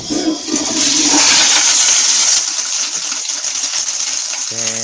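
A toilet flushes loudly and close, a rushing gush of water that slowly fades, with a brief tone near the end.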